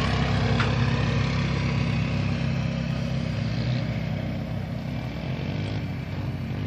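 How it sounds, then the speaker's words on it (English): A four-wheeler ATV engine runs nearby at a steady idle, a constant low rumble filling the outdoor work site where a rock wall is being built with cob mortar, with no talking. "four-wheeler."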